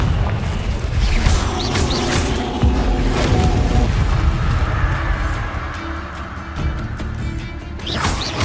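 In the Hogwarts Legacy video game, a Confringo fire spell sets off heavy, booming explosions with crashing impacts and crackling debris. The blasts come loud and close in a dense, continuous burst, with fresh bangs near the end.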